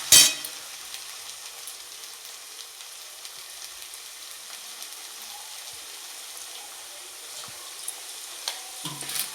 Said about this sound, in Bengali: পেঁয়াজ কুচি করে দিয়ে দিচ্ছি। হালকা আছে, এগুলো ভাজা হোক